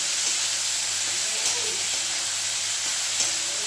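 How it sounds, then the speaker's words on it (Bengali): Potatoes and cauliflower frying in hot oil in a blackened kadai, a steady close sizzle and hiss with faint stirring scrapes and no talk. "দেখো এগুলি একটু ভেজে নেব"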